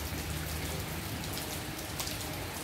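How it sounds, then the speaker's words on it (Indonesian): Steady rain falling around a house during a weekend downpour, now easing off, a continuous soft hiss of drops on surfaces with no talk. "Hujannya sudah mulai reda."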